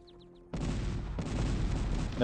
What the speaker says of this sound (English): Now Bacon is trying to shell the army of Metafrost